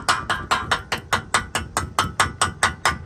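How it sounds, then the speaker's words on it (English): Slag is chipped off a flux core weld with a chipping knife, a run of about fourteen evenly spaced, sharp metallic taps, loud and close. "We'll chip it with a chipping knife."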